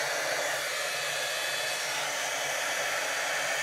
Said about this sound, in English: I'm gonna turn my heat tool on